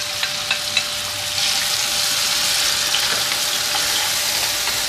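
Peppers, garlic and peeled tomatoes fry in a pan, opening with a few light taps before a loud, steady, broad sizzle takes over and holds for several seconds, close and without speech.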